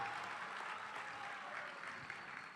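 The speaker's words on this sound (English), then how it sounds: "How about one more round of applause, John McKissick Award winner." A room full of people giving another round of applause for an award winner at the BESPYs athletic awards banquet, a steady, moderately distant wash of clapping that fades gently near the end, with no talk.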